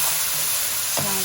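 Ground cumin and other spices are stirred into a hot, sizzling pan while cooking an Indian chickpea, paneer and egg sabji. A brief, close hiss of frying carries a soft scrape of stirring.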